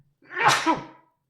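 A single close, loud sneeze bursts out and fades within about a second, with no talking around it.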